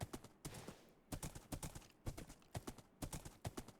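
Horse hooves clip-clopping in a Minecraft Create mod game, quick repeated hoofbeats in a steady trotting rhythm, close and fairly quiet, with no talk over them.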